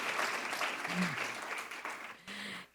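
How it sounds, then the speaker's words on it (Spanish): Audience applause at an economic outlook presentation for Jalisco and Mexico, a dense, steady patter of many hands clapping throughout, with brief voices rising above it. "A él sí, aplauso, por favor."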